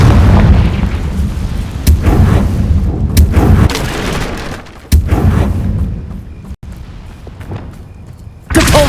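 Confringo fire-blast spells in Hogwarts Legacy go off as repeated loud booms and sharp explosive cracks over a constant rumbling din, with several distinct bursts spaced a second or two apart.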